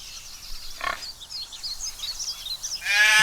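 Sheep in the video game Craft The World bleat in short, mid-pitched calls, one brief cry early and a louder, longer bleat at the end, over faint game ambience.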